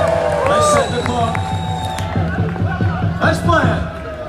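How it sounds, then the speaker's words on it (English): A large stadium crowd cheers and claps loudly for Pakistan at the 2019 Cricket World Cup opening ceremony, a sustained roar of voices and applause with whoops rising above it. "let's have a big round of applause for Pakistan!"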